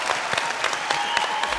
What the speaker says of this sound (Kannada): ಸೊ ಜೋರಾಗಿ ಚಪ್ಪಾಳೆಯೊಂದಿಗೆ ಅವ್ರನ್ನ ಸ್ವಾಗತಿಸೋಣ